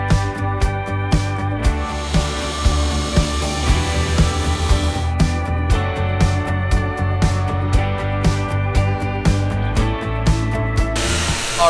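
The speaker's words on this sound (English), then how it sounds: "Now we're going to be using machines to polish this clear coat out" Machine polisher working car clear coat, a loud steady motor drone with a harmonic whine, broken by rhythmic pulses and brief dropouts as the pad moves over the paint, with no speech over it.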